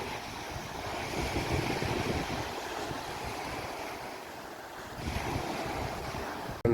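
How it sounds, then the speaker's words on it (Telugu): Sea waves at Malia beach in Kuwait wash in with a steady, broad roar, mixed with wind buffeting the microphone, and there is no talk. "సముద్రము"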